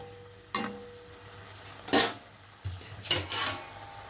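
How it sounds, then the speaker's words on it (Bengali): Mushrooms are stirred in spice paste in a pan, with a few scraping clinks of a spoon against the metal at uneven intervals over a low background hiss. "এখন আমি এটা মশলার মধ্যে দিয়ে দিচ্ছি মাশরুমটা। এখন এটা ভালো করে কষাতে থাকতে হবে।"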